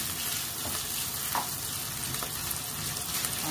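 Bitter gourd frying in the oil it has released gives a dense, continuous close sizzle and crackle with a few faint utensil touches, no voices.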